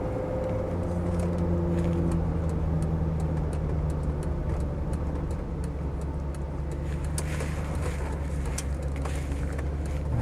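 A Range Rover 4.2 LSE running on LPG drives along a straight track, its engine a steady low hum heard from inside that builds slightly as it accelerates, with road rumble underneath.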